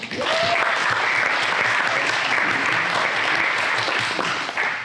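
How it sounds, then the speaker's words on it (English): A large crowd at an annual meeting keynote applauds, producing a thick, continuous roar of clapping that stays loud and even throughout, with no talk over it. "Can we get another round of applause for them?"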